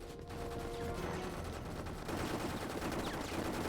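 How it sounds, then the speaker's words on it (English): Gunfire from soldiers shooting at walls in the video game Dirge of Cerberus: Final Fantasy VII, a dense continuous fusillade of rapid shots heard fairly faint and distant for several seconds. "They're just shooting at the walls."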